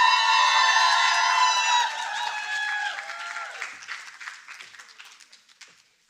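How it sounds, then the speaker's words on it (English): A conference audience applauds and cheers loudly at first, then the clapping thins out to scattered claps and fades away by the end. "Can we all give a round of applause and stand for Prof."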